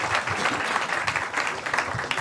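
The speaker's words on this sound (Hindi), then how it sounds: "और एक बार जोरदार तालियां हो जाएगी" A comedy club audience at a crowd-work stand-up show breaks into a short, steady burst of clapping that fills the room evenly for a couple of seconds.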